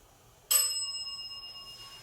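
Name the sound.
bell ding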